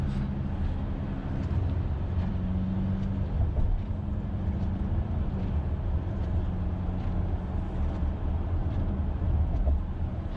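A Jaguar car exiting a freeway in Melbourne, heard as a steady low engine and road rumble from inside the cabin, constant and even throughout with no talk.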